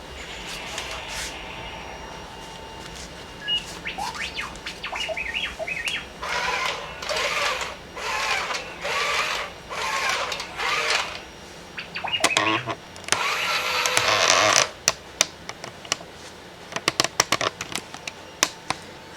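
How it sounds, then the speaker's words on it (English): A Ruko 7088 WILL toy robot powering up for the first time, a startup sequence of rhythmic electronic bleeps and whirring chirps in regular bursts, then sharper scattered clicks and a brief noisy burst near the end, close and fairly loud. "That is quite a startup sequence. And he kind of sounds a little bit like R2-D2"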